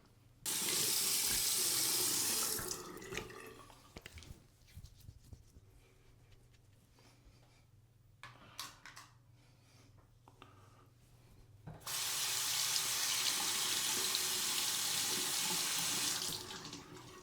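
Water from a tap rinses a Henson AL13 razor at a sink, a loud steady gush at the start, then quieter rubbing and small clinks while it stops, and the stream returns strongly near the end.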